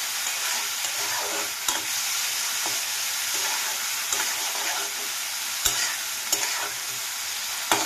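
Food fries lightly in a pan, a continuous soft sizzle with occasional sharp spatula taps and scrapes as it is stirred, close and steady, no talking.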